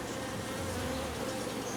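Honey bees buzz steadily at a hive full of syrup, many foragers out and about, a continuous dense drone with no pauses.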